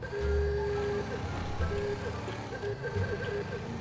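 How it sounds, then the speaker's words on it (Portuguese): A musical car horn in GTA 5 plays a short, tonal jingle of repeated beeping notes, close and fairly clear, over a low engine rumble, with a voice briefly audible. "Massa buzinha"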